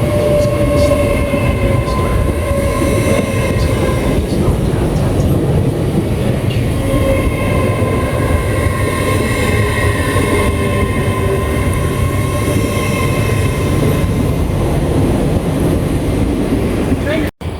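Trains at Doncaster station on the East Coast Main Line make a loud, steady rumble with rail noise throughout, continuous and close, with faint tonal hums above.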